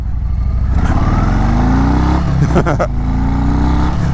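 A 2020 Harley-Davidson Breakout motorcycle on a first ride, with its engine rumbling low and rising as the throttle is rolled on. The engine is loud and close the whole time, with wind buffeting and a brief clatter midway.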